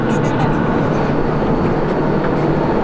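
Coast Guard boat engine run-up during engine checks, one engine at a time in neutral, as a steady, loud, continuous rumble with broadband drone that fills the whole stretch without pause.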